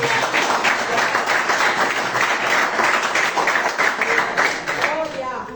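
A church congregation claps during a worship service, a loud, continuous mass of clapping with busy rhythmic texture, voices calling out over it toward the end.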